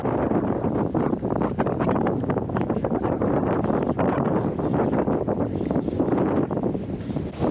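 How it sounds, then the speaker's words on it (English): Strong wind gusts across a lagoon on Aitutaki during lure fishing near big rocks, a steady loud roar buffeting the microphone without a break and with no voices. "the wind is blowing even harder"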